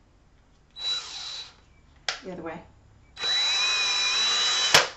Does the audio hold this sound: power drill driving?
yes